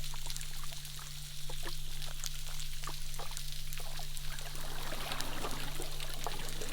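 Water swooshes and rushes over a hydrophone hanging from a bobbing buoy, giving a continuous hissing wash with scattered clicks and pops over a steady low hum.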